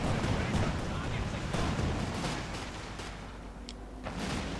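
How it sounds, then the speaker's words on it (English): A white phosphorus artillery barrage rumbles in Company of Heroes 2, dense overlapping booms and crackling impacts forming a loud, continuous wall of battle noise. "Got another white phosphorus barrage here."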